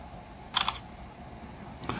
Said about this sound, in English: Decent shutter, not too bad.